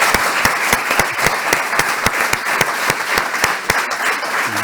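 An audience at a Nîmes city event applauds Julien Plantier, the deputy mayor for urban planning, in steady, dense clapping with a regular rhythmic pulse, close and continuous with no talk.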